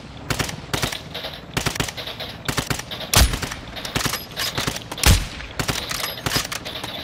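Repeated gunshots and short automatic bursts in Call of Duty DMZ, sharp, fairly loud and irregularly spaced across several seconds, with a couple of heavier booming shots standing out.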